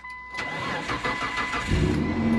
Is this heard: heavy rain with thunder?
no